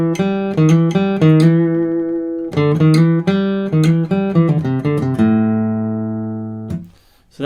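A guitar phrase is played clearly and up close. Two short runs of picked notes are followed by a held chord that rings and decays, ending in a brief soft scrape.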